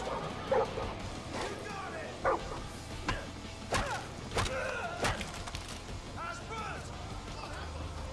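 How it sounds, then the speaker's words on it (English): In the video game Far Cry 5, a dog barks in sharp, repeated yips and whimpers among crashing game noises, with someone talking over the action. "I need to grab my fucking dog."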